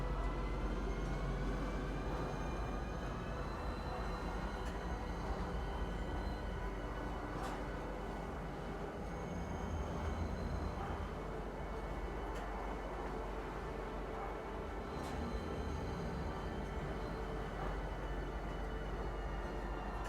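Steady rumble of a metro train ride to Kisa Spaceport in the game Star Citizen, a continuous low rolling drone with faint clicks and tonal hums, loud and unbroken throughout.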